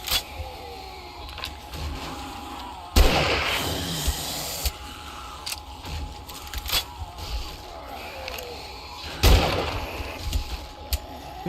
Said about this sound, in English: This is the slowest rifle ever.